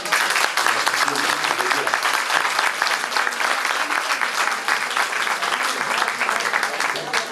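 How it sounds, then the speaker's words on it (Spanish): A Spanish cultural-week audience at a talk on coping with breast cancer gives strong, steady applause, dense and loud throughout with no speech over it. "De nuevo este fuerte aplauso."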